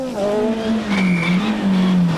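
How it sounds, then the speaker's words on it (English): A front-wheel drive Honda Civic rally car on loose gravel at a rallysprint, its engine droning and shifting pitch up close, with a gliding harmonic whine and a brief tire-squeal-like tone, no talking. "But one man getting it all right in his front-wheel drive Honda Civic is James Foley."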